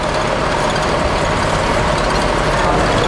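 Haryanto bus to Cepu sitting at Pondok Pinang terminal, engine idling before departure: a continuous close, loud low rumble with broadband mechanical noise and a hint of air brake hiss, no talking.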